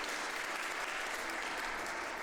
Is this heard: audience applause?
yes